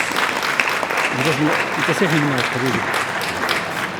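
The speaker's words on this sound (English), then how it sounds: "please give them a round of applause" Audience at a civic gathering in Liverpool honoring guests from Gaza claps in a loud, sustained round of applause, many hands close by, while voices call out and talk briefly over the clapping.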